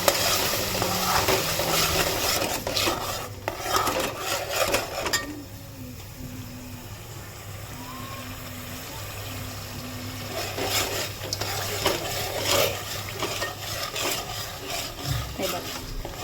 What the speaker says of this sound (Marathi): वाटण छानपैकी मिक्स करून घेतलंय.